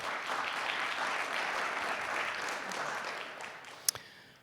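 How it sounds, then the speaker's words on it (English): Audience applause at a Spokane PEG forum, steady dense clapping from a room of people that holds for about four seconds, then tapers off, with one sharp louder clap near the end. "So let's give Dale a round of applause as well."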